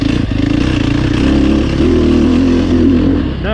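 A Sherco SEF300 dirt bike engine labours up a hill at Crow Canyon, giving a loud, close, steady low thumping drone that rises slightly in pitch near the end, with no talking.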